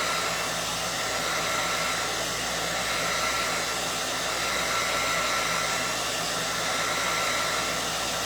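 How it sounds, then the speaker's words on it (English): A blow dryer runs steadily for the whole stretch, a constant, fairly loud broadband whoosh drying watercolor paint on a peony painting, with no talking over it. "give this a little kiss with a blow dryer"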